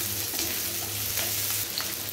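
Onions sizzle softly in a pan for chilli cauliflower and get stirred now and then, with faint scraping as they move.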